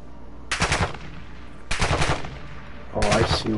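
Enemy gunfire in a PS4 video game, three separate bursts of rapid automatic shots, each lasting about half a second to a second, loud and close, with a faint voice underneath.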